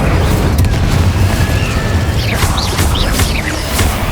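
The Incendio fire spell in Hogwarts Legacy bursts with a loud, continuous rushing roar as other combat effects warble and whistle over it.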